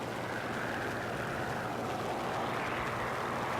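A Russian plane's engine drones in the War Thunder video game, a constant, smooth, wind-like roar with no break.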